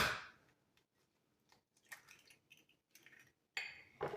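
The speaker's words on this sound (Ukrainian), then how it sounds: "розіб'ю одне яйце" A single egg cracked against a bowl rim and dropped into minced meat mixed with crumbled onion and grated garlic, giving a few sharp, close clicks and taps with quiet pauses between.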